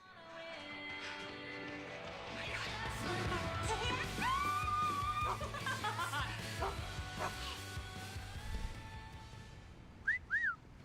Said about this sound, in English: he whistled at me